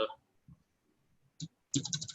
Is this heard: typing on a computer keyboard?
yes